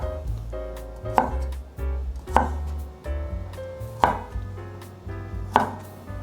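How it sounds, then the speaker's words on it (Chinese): A knife chops baby corn into roll-cut pieces on a board, producing five sharp, evenly spaced thuds with brief pauses between them, close and clear with no talking. "准备5条玉米笋，把玉米笋切成滚刀块"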